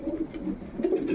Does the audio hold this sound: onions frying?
no